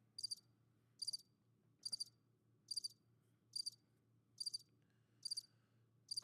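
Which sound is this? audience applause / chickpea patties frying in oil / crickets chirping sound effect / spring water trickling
crickets chirping sound effect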